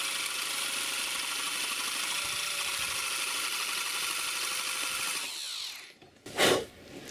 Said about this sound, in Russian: Так, сверлим большим сверлом отверстие.